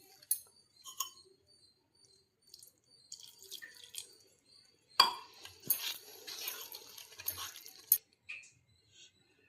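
A spoon stirs eggless cake batter with milk in a bowl, giving intermittent wet clinks, taps and soft liquid sloshes that come in short bursts separated by quiet pauses.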